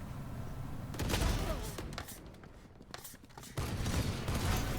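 Sheriff pistol shots in a Valorant deathmatch pop at low volume, a few scattered cracks mixed with background game noise.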